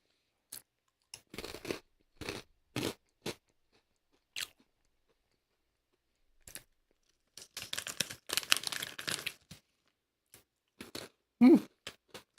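Crunchy shrimp-flavored snack being chewed up close, with scattered sharp crunching bites in bursts separated by quiet pauses, then a denser run of crisp munching and a final loud crunch.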